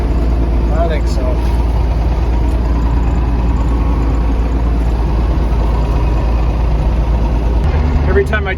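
A pump rumbles under the seat of an idling vehicle, making a steady low, dense drone throughout with faint rattles on top, while people talk over it.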